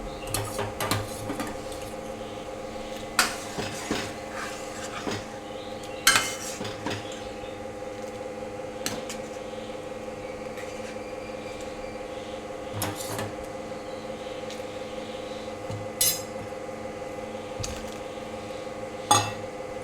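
Peanuts and cooked chana dal being stirred into a simmering taro leaf amti, heard as intermittent ladle clinks and knocks on the pot over a steady low hum, with occasional soft scraping.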